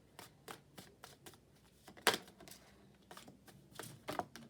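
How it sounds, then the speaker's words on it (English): Tarot cards being shuffled during a love reading, a dense run of quick papery riffles and flutters with a couple of sharper snaps as cards spill out, fairly close and alone. "So I'm going to continue shuffling."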